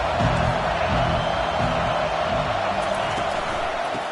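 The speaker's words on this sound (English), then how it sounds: "This crowd bringing the energy and noise early." A large stadium crowd at a college football game roars steadily, a dense continuous wash of cheering and noise with no break across the moment.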